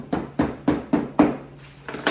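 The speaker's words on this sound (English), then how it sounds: "We'll just hammer them in a little bit because I don't want to bend the tops of" A small hammer taps metal candle holder cups into a base, five sharp evenly spaced knocks followed by lighter scraping and handling sounds, close and clear with no talking.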